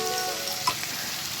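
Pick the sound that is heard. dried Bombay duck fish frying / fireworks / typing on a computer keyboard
dried Bombay duck fish frying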